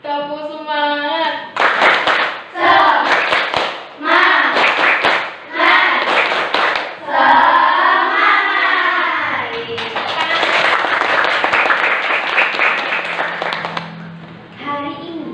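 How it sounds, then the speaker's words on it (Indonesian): Classroom of children performing a rhythmic 'tepuk semangat' spirit clap led by a teacher, with bursts of patterned clapping alternating with children chanting and a teacher speaking. "kita awali dengan tepuk semangat terlebih dahulu ya"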